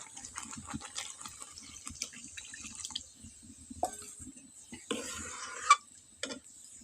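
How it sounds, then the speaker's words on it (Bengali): Water is poured into a pot holding turmeric and salt: light splashing and dripping near the end, after scattered clinks and scraping from the pot, all fairly quiet and close. "লবণ আর হলদি দেওয়ার পরে আমি দিয়ে দেবো জল।"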